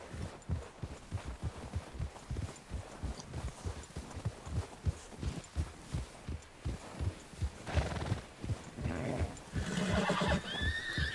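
A horse in Red Dead Redemption 2 gallops with steady, regular hoof thuds, and a whinny and snort rise near the end.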